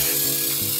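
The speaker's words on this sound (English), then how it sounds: "I like to use Baker's Joy. It's for baking spray with flour." Baker's Joy baking spray with flour sprayed onto a cake pan, heard as a brief, steady close-up hiss with no talking.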